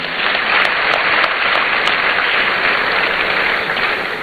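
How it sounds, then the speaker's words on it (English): Dense, even applause from a crowd at a student entrepreneurship programme launch event, sustained for a few seconds at a steady level without speech. "Clap for her again for me."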